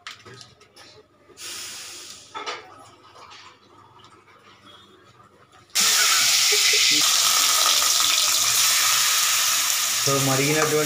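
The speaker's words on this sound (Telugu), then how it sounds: "సో మరిగినటువంటి నెయ్యిలో మనం తురిమినటువంటి గుమ్మడికాయ గుజ్జు" Grated ash gourd drops into hot ghee and fries with a sudden loud, steady sizzle partway through, after quieter kitchen handling and stirring noises.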